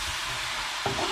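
Sponge gourd (patula) sizzles steadily in a frying pan with a broad hissing fry, and a short scraping stir comes near the end, close and without talk.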